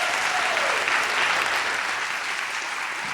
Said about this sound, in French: Est-ce qu'on peut lui donner un applaudissement?